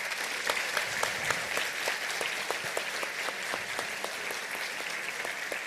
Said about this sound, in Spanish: un fuerte aplauso también para ellos